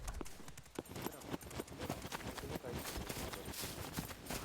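Horse hooves clip-clopping in the survival video game SCUM, a quick steady run of distinct hoofbeats at moderate distance, faint overall with a little background game noise.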